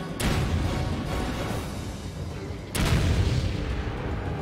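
Turret gunfire from the video game Resident Evil 5 roars as a dense, continuous barrage, with a fresh heavy burst kicking in partway through, loud and booming.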